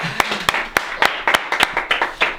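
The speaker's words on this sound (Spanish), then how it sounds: "aplauso para ella" A small audience claps for Erika, a Paraguayan artisan woman, with a dozen or so sharp, uneven claps spread over a couple of seconds, fairly close, with no talk.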